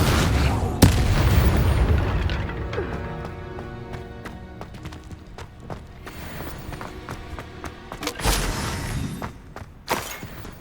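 A fire spell is cast in Hogwarts Legacy, giving a sharp burst followed by a booming, rumbling blast. Scattered impacts and a few later bursts sound over game ambience.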